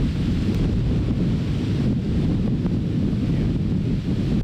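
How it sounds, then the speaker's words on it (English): A thunderstorm squall at the American Falls Reservoir in Power County, Idaho, drives strong wind gusts in a loud, continuous roar with heavy low rumbling buffeting close to the microphone, and no voices. "Wind gusts were roaring as the squall line continued on its path."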